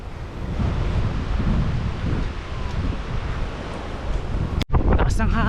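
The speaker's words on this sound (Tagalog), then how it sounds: "Lakas ng hangin." Strong wind in New Zealand roars across the microphone in heavy, continuous gusts, with a brief dropout near the end before the buffeting resumes.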